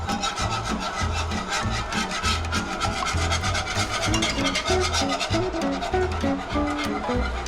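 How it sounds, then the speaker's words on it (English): Spoon stirring ingredients into melted butter in a pot for broccoli cheddar soup, cooked in an RV kitchen: a loud, continuous scraping and rubbing against the pot, with a steady rhythmic texture throughout and no voices. "Slowly start stirring that in."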